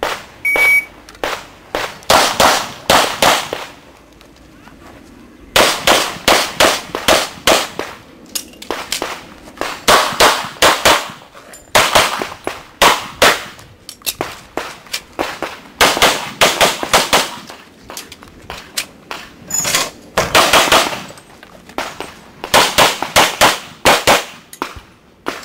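Beretta 92F pistol shots on a stage of a shooting competition, many sharp, loud reports fired in quick strings separated by short pauses, with a few beeps and clatter between bursts, carrying on for over twenty seconds.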